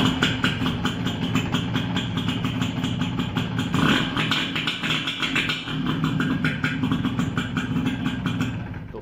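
A Yamaha YB 100 motorcycle engine runs steadily after starting, a continuous mid-pitched idling chatter with slight clatter, close by and alone without talk.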